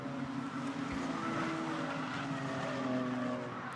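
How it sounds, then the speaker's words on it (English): Ginetta GT Academy race cars at Snetterton squeal their Pirelli tires through a corner, a loud continuous engine roar with wavering tire howl layered over it for several seconds. "Lots of tire squeal you can hear as the rather tortured Pirelli rubber struggles to respond"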